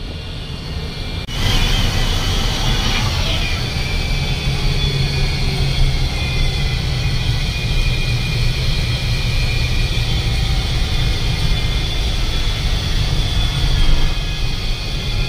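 Inside an AC sleeper bus travelling a busy highway: a loud, constant low engine and road rumble with steady hiss, unbroken for the whole stretch.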